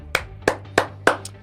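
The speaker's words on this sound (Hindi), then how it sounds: "एक बारी जरा तालियां बजा दो भाई मुंबई इंडियंस के लिए और गुजरात टाइटंस के लिए" Slow, deliberate hand claps, four sharp claps evenly spaced and close by, cheering Mumbai Indians and Gujarat Titans after a cricket match.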